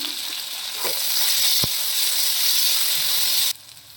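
Steady bright sizzling of chopped onions frying with salt in a hot pan, continuous and close, with a brief clatter midway, then the sizzle cuts out near the end.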